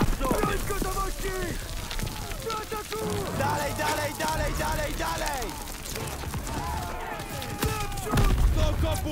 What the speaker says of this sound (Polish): Tu Goebbelsy strzelają!